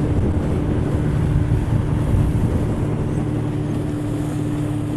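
A speedboat on the Bagkhali river heading toward the sea mouth near Maheshkhali, a loud steady engine drone with a low hum, rushing water and wind buffeting the microphone throughout.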